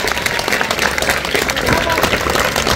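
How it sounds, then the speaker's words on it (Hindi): A crowd gathered at a coaching centre event breaks into loud, dense applause, sustained clapping filling the room, with voices talking over it throughout. "एक बार जोरदार ताली प्रेस के लिए बजाओ।"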